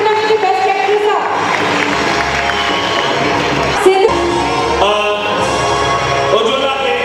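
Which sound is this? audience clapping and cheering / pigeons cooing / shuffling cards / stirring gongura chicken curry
audience clapping and cheering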